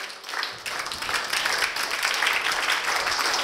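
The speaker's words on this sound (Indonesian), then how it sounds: "tepuk pramuka 13 kali" Children at an Islamic holiday school camp clap together in the scout clap pattern, a bright, continuous burst of many small hands that builds slightly in loudness, close and lively, with no voices over it.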